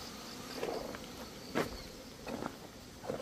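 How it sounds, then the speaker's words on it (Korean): Hornets buzzing around the entrance of an empty beehive in a shaded apiary, faint intermittent drones rising and fading as insects fly past, with quiet outdoor ambience between passes. "말벌이 꽤 설치고 있죠"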